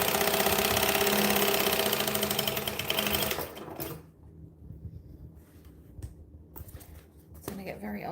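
A sewing machine stitches through bag foam pieces: a loud, steady run of needle strokes, then quieter, broken bursts of backstitching, with a voice speaking near the end.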